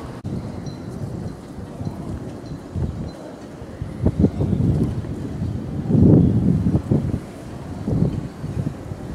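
Strong gusty wind buffets the microphone near the seaside fort by Monastir harbour, low rumbling surges rising and falling in heavy bursts with no speech.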